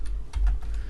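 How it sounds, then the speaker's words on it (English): A few soft, separate keystrokes tap on a computer keyboard while a Python program is being entered, close and fairly quiet against a low background rumble. "we're going to type in"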